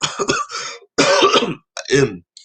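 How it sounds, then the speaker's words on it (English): A few harsh coughs and throat-clearing bursts come close to the mic in short clusters, separated by brief silences. "Sorry about the cough, man."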